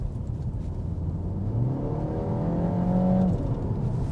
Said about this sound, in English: Engine sounds are good. There is iconic sounds built into it, which you can turn on.